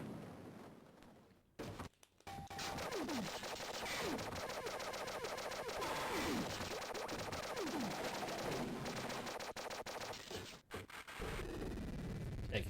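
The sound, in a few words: bombs exploding from a malfunctioning jetpack in a video game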